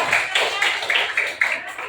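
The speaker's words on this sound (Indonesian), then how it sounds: "tepuk tangan dulu kita semuanya" Classroom of students clapping their hands together, a steady run of rapid claps sounding loud and close with some voices mixed in.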